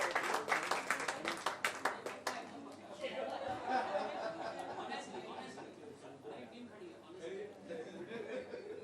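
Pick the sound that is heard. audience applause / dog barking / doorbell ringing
audience applause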